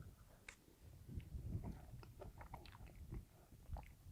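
Chewing a rehydrated outdoor beef pasta marinara meal, wet crunchy mouth sounds repeating steadily and close up, with no talking.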